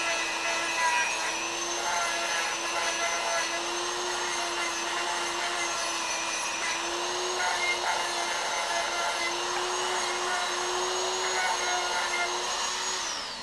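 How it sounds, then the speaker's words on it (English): A Dremel rotary tool grinds a burr off the top of a plastic decoy stake tube, a steady high-pitched whine running continuously and close, with slight shifts in pitch as it bites into the material. "The old Dremel tool. And get rid of this nasty burr up top."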